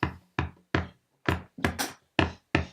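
Eight isolated kick drum hits, dry and punchy, spaced irregularly with short decays and nothing else sounding between them.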